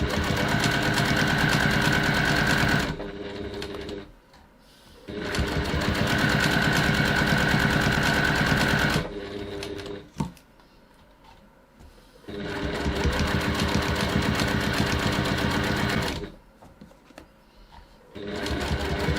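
Sewing machine stitching the bottom seam of a bag, running in three loud sustained bursts separated by short quiet pauses.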